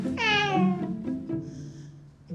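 Tonkinese cat giving a loud, drawn-out yowl up close, a rising wavering cry followed by a shorter second call, alone in a quiet room.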